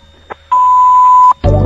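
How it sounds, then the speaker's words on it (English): A telephone ringback tone during a call, a soft click followed by a single long, steady electronic ring, then a loud burst of sound as the line changes. "hold on, let me call her back."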